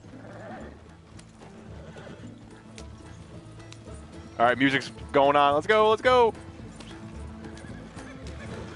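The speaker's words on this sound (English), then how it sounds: "Come on, horses, with us." Horses in a video game trot with a steady clip-clop under spoken game chatter, then several loud, close neighs and whinnies ring out one after another before the hoofbeats carry on.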